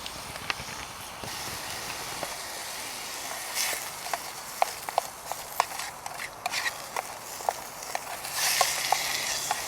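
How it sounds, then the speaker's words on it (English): Onions and carrots sauteing in a metal canteen cup over a camp heat source, a soft steady sizzle with scattered sharp clicks and scrapes of stirring, close and fairly quiet, with no talking. "heat that up and saute those onions and the carrots until it is they're soft"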